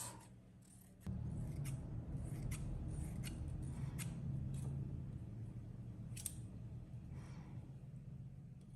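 Scissors cut through eight folded layers of tulle for fabric ballerina dolls, a steady crunchy snipping that runs on for several seconds, close and fairly loud, with no talking.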